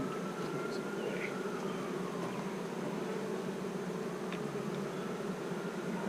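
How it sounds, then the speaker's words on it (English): A hot honeybee hive hums with a dense, continuous buzz, steady and close, a constant drone of many bees with a few individual insects passing near, no talk. "That hive is hot. You can hear them singing."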